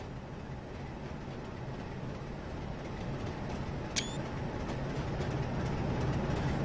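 A Class 47 British diesel locomotive in Train Simulator 2015 hauls china clay, giving a faint, steady low rumble of engine and rolling wagons, with one sharp brief tonal squeal or horn blip near the middle.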